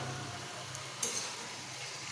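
Chicken sautés in a pan with a short burst of faint, even sizzling and a brief utensil tap midway.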